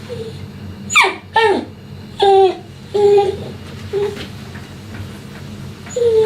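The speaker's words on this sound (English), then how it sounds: "My next dog is here." A dog at a grooming session whimpers and yelps in a series of short, high whines spaced through several seconds, close by and alone with no one talking.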